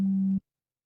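A telephone tone sounds as a single steady electronic note lasting under half a second, fairly loud, then cuts off into silence.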